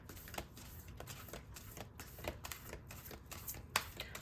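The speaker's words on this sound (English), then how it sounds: "I'm just going to pull a quick little affirmation card here." Quiet, rapid riffling and flicking of affirmation cards being shuffled by hand, a dense run of soft papery snaps at close range.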